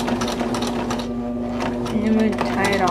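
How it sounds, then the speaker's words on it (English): A sewing machine stitches plush toy clothes with a steady, close mechanical whir and rapid needle clatter, while a person talks over it. "and then I'm gonna sew it"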